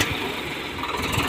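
A Swaraj two-wheel walking tractor idles close by, its engine giving a steady, rough, knocking rumble over a very short stretch.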